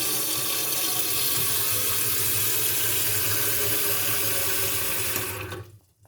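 Tap water runs steadily into the tank of a Ritello cleaner, a loud, close, continuous rushing splash that cuts off abruptly near the end.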